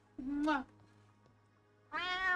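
A pet cat gives two clear meows close up, a rising-falling cry followed after a short pause by a second, louder one, in a quiet room.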